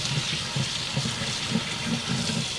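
A kitchen tap runs steadily into a bowl of rice being washed, a continuous close splashing rush with soft irregular gurgles underneath, no voices.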